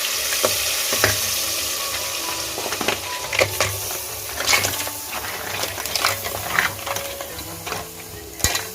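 Masala mixture with crab frying in a pan, a steady close sizzle with occasional sharp clinks and stirring knocks, no talking.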